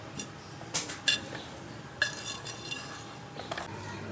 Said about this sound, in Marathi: आता आपण थोड्याला मिक्स करू काकी ती गोड बनेल